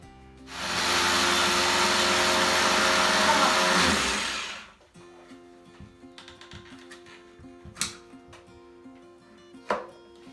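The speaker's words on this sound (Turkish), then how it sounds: "Sen rondoyu çalıştır." A food processor runs for mücver muffin batter, its loud buzzing whir starting abruptly, holding for about four seconds, then cutting off, followed by faint clatters and a couple of sharp knocks.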